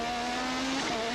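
A Lola Ford Formula 1 car races at the 1986 Australian Grand Prix in Adelaide, heard onboard as a loud, steady high-revving engine whine. The pitch dips briefly near the end and then climbs again.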